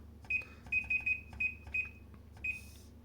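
A Kumtel digital oven sounds a series of short, high electronic alarm beeps in an irregular rhythm, fairly quiet, over a low background hum.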